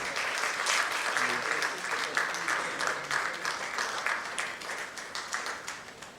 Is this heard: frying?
no